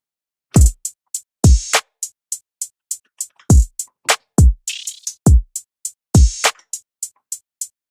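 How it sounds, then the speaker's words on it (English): A programmed drum beat in FL Studio plays for a hip-hop track: booming kicks and snappy snares over a fast, steady hi-hat pattern, loud and up front with no voices. "all together, drums sound like this"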